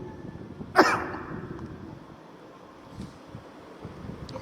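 A single sharp cough bursts out near the start, close and fairly loud, followed by quiet windy background with a couple of faint soft knocks.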